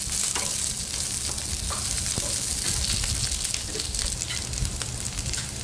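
Chopped onion lightly sautéed in a pan for uttapam chutney gives a loud, continuous close-up sizzle with steady stirring scrapes throughout.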